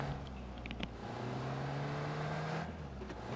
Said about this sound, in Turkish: Araba sesi aldım. Araba var.